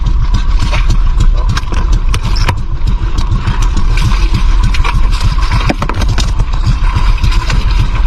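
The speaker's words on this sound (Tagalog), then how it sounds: "Patayin mo yung makina." A fishing boat engine runs steadily at idle out on the water, a loud, continuous low mechanical drone with a constant rumble and no breaks, close by and dominating the scene.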